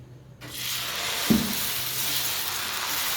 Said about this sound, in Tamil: இப்போ இன்னொரு தோசை நான் ஊற்றி எப்படி செய்யணும்னு சொல்லி காட்டித்தரேன்.